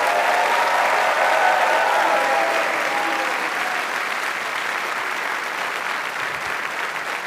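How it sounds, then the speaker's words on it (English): A large audience at a graduate school of management hooding ceremony gives sustained applause for the graduate candidates, a dense, even roar of clapping that holds steady and eases slightly toward the end. "Let's give them all a big round of applause."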